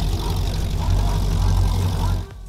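A 36-foot Skater powerboat's engines roar close by as it leaves the dock, a deep, steady rumbling drone that holds loud before dropping off abruptly near the end.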